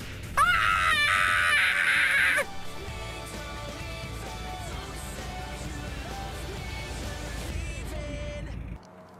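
A person screams loudly and continuously during an aerobatic plane flight over Australia, high and strained at first, then lower wailing over a constant engine roar.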